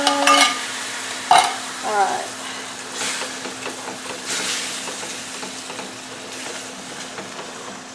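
Beef stroganoff sauce sizzles and fries in a pan while being stirred and mixed, with steady crackling and a few brief scraping knocks near the start, and a voice briefly speaks.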